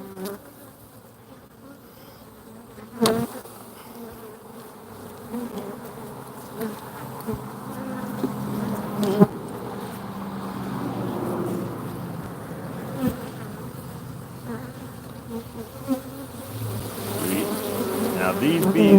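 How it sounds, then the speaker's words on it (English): Steady buzzing of many feisty honey bees at an open, strong hive close by, a continuous drone that swells and grows louder toward the end. "Now these bees, as you can see, are a bit feistier."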